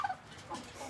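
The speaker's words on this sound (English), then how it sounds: "You gonna gobble for us?" A big Bourbon Red turkey in Texas gives one brief gobble, close by and moderately loud, with a bubbling warble that fades quickly into quiet outdoor air.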